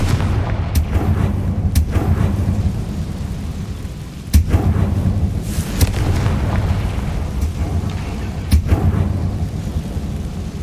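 Confringo fire spell blasts in Hogwarts Legacy, deep rumbling booms with sharp cracks of impact over a constant heavy roar, several hits a few seconds apart, no talking.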